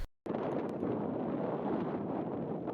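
Harsh headwind roaring over the microphone on a bicycle ride along a dike, a loud, steady broadband buffeting that fills the whole stretch after a brief silent start.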